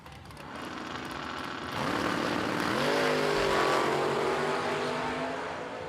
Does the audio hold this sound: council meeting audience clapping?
no